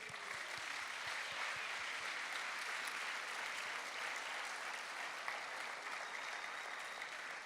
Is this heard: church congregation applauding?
yes